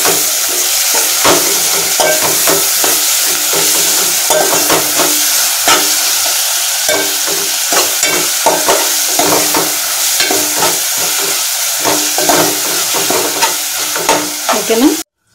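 Coriander and mint frying in hot oil for prawn biryani: a loud, constant close sizzle with repeated stirring scrapes and clatters throughout, cutting off abruptly at the end, with no talking.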